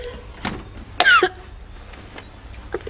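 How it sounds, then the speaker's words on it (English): A person coughs several times in short, harsh bursts, with one louder hacking cough in the middle and fainter coughs around it, in a quiet indoor room. "Your cough would get better if you got up every now and again."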